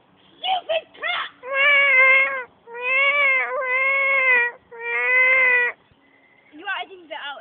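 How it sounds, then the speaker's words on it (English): A cat meows loudly and insistently in a series of long, drawn-out wails separated by short gaps, with quicker, choppier yowls at the start and end, close to the microphone. "Stupid cat!"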